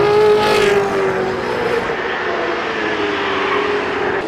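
A field of 1968 Australian Touring Car Championship racers, a big Chevrolet among Ford Mustangs, roars past loudly at the start, the engine noise easing slightly into a sustained rumble after a couple of seconds.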